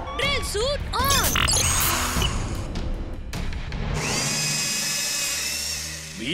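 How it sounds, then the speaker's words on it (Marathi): A cartoon robot's drill suit powers up with whirring, swooping mechanical tones, then breaks into loud, sustained drilling and grinding under a high electronic whine, all close and busy. "drill suit on"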